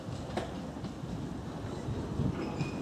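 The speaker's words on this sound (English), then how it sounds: "Now, 2 trains are going to cross over here." Two Isle of Wight Island Line trains cross each other on the railway, giving a steady, continuous rumble with faint rail noise and no voices.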